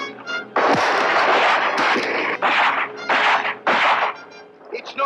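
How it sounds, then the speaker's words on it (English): Gunshots from a 1957 monster film are fired at a giant crab creature: a run of loud, booming, overlapping blasts with reverberant tails, punctuated by brief pauses. "It's no good shooting, Dale."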